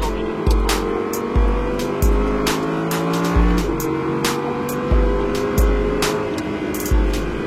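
An Audi R8 race car pulls away around the Le Castellet circuit, heard from the cabin. A loud engine climbs repeatedly through the gears, with regular sharp shift cracks and a sustained roar and no speech.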